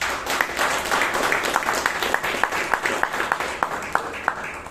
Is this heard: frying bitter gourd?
no